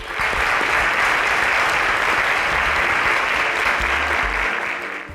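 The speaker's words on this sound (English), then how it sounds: "A round of applause for them" A crowd claps loudly and continuously for contestants at a tech pitch competition show, a thick even wash of applause that tapers slightly at the very end.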